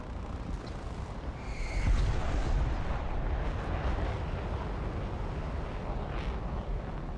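Heavy aircraft gunfire bursts in the combat game War Thunder, a dense roar of rapid shots that swells around the two-second mark and rumbles on steadily under constant engine noise, with no speech.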